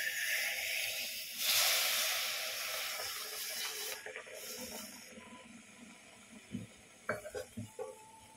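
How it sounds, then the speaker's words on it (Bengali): Homemade tandoori chai, tea poured into a heated clay pot on a winter day, giving a loud burst of hissing sizzle and steam that gradually dies down, followed by a few close clinks and taps. "এবার চাটা এসে ঢেলে দেবো।"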